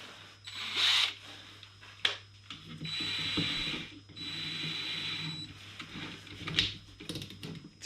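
A power drill tightens a fitting on the dry-sump oil system of a TVR Vixen during an oil change, whirring close up in several separate bursts with short gaps between them.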